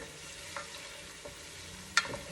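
Garlic and a few chili flakes frying in oil in a pan, stirred, for an Italian-style broccoli-cauliflower pasta: a soft steady sizzle with a few brief scraping stir clicks, the sharpest near the end, close and fairly quiet.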